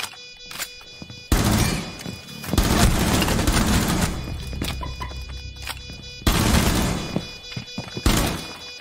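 Rainbow Six Siege gunfire shooting through walls, several loud bursts of rapid automatic fire separated by short pauses, close and dominant.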